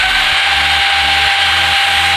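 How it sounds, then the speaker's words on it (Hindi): An electric drill running on an 800VA inverter whirs loudly and steadily at close range, a continuous high motor whine with no break. "तो ड्रिल मशीन हमने ऑन कर दिया है, जैसे ही देंगे ड्रिल ऑन हो जाएगा।"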